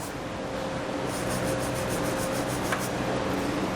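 A tube brush scrubs the threaded holes in the frame of a 2020 Toyota, giving a steady close rasping and rubbing that continues for the full stretch at an even level.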